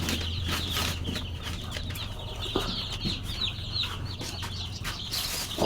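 Native hens clucking in short, scattered bursts at close range over a steady low hum, with no one talking.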